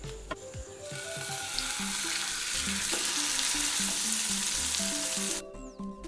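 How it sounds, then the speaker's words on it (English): Pearl spot fish shallow frying in a little coconut oil with curry leaves over a medium-high flame: continuous close sizzling and crackling, with a brief clink near the start and the sizzle quieting abruptly just before the end. "shallow fry the fish in little bit of coconut oil for 2 minutes on both sides"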